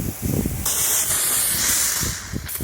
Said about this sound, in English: just spray it down, clean it all up.